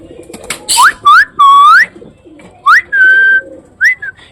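Pigeons calling close by in repeated rising, whistled coos, about six separate bursts separated by short pauses, loud and clear with no talking.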